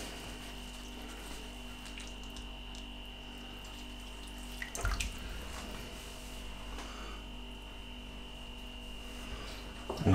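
Cold water runs from a kitchen tap over a piece of paper towel, a steady faint splashing stream over a low background hum, with a brief clatter midway.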